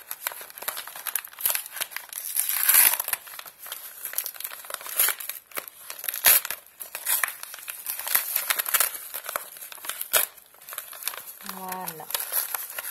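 A paper envelope is opened by hand, giving close, continuous crinkling and tearing rustles throughout, with a brief soft tone near the end.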